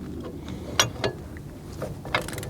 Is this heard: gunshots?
no